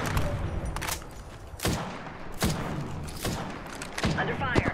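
Gunfire in the Apex Legends battle royale game on the Kings Canyon map, with several sharp shots and thumping bursts at irregular intervals against a busy game background, mostly without talk.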